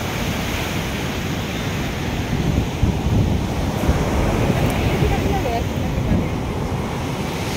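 Rough sea waves crash on Puri beach in a loud, continuous roar, heavily mixed with gusting wind buffeting the microphone.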